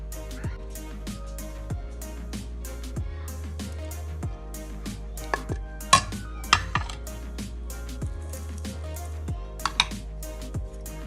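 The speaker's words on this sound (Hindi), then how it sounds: "इसमें ये सारी चीज़ें मैं डाल के इसको अच्छी तरह मिक्स" Tandoori chicken marinade ingredients being stirred together in a bowl, with a spoon clinking and scraping rhythmically against the bowl, close and clear, in a quick, steady stirring pattern with occasional sharper knocks.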